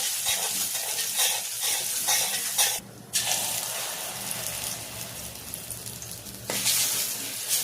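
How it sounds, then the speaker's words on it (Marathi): Semolina and moong dal roasting in a pan for sheera, a close continuous dry hiss and rustle from steady stirring, with one brief pause partway through. "याला छान 10 मिनिटं पूर्ण लाल होईपर्यंत हलवत राहायचं।"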